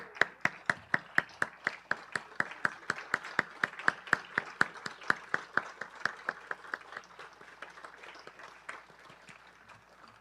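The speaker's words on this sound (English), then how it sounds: "let's give Lou a round of applause for what he does" Sparse, evenly spaced claps from a small audience at a Rotary Club scholarship luncheon in a hotel room, a steady patter of individual hand claps that thins and fades toward the end, with no talk over it.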